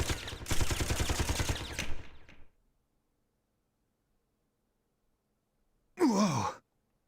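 A rapid burst of machine gun fire from Aigis in Persona 3 Portable rattles loudly for about two seconds, then cuts to silence before a short swooping whoosh near the end.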